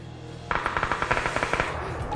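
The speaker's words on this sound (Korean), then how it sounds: "내가 총소리 내가지고" Rapid automatic gunfire rings out in a battle royale video game, a quick burst of about a dozen evenly spaced shots lasting around a second and a half, loud and close.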